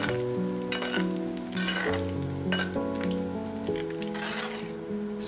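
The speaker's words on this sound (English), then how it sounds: "In the same oil, let's add a mixture of spicy and mild dry chilies." A mix of spicy and mild dry chilies fries in oil for Thai chili jam, a steady close sizzle with crackling bursts and occasional stirring scrapes, a held musical tone underneath.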